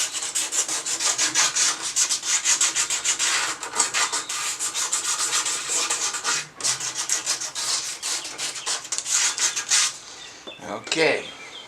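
A painted washer being hand sanded with 120-grit sandpaper, close and steady back-and-forth scratchy rubbing strokes that continue for several seconds, then pause and end with a few lighter scuffs.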